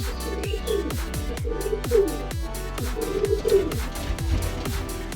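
Baby pigeons coo in a pet coop, a steady run of soft, rhythmic, repeated calls pulsing close by with no talk over them.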